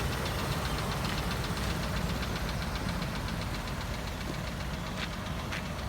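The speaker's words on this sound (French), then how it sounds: "Le gros moteur du monde, 7 litres et 8." A big 7.8-litre V8 in a fifty-year-old six-metre coupé de ville idles steadily nearby, a low, even throbbing rumble with a faint ticking knock running through it, no voices.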